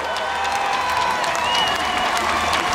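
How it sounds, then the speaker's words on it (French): A large crowd at a street rally for Adama Traoré applauds loudly and continuously, a dense roar of clapping with some cheering and voices mixed into the sustained noise. "applaudissez-vous, applaudissez-vous, applaudissez-vous"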